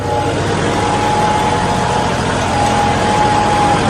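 A large farm tractor engine running steadily at close range, a loud continuous low rumble with a faint whine on top, with no speech.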